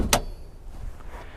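Car door of a Mitsubishi Lancer Evo X opening with one sharp unlatching clack, followed by quiet faint rustle; no talk.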